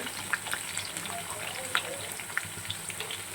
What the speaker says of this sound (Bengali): আলুগুলোকে খুব ভালো করে ভেজে নেব লাল লাল করে।